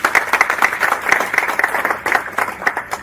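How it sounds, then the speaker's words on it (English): An audience at a legal event unveiling a new arbitration law draft claps steadily in sustained applause, loud and close, filling the whole moment without speech. "I think it deserves a big clap to see the team."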